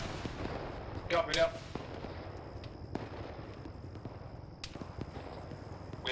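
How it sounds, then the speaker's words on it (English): Gunfire during a military field training exercise: a few scattered sharp cracks echo at a distance, spaced irregularly, while a radio-style voice speaks briefly over a steady background hiss. "We're taking shots from the west."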